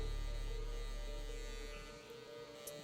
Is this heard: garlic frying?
no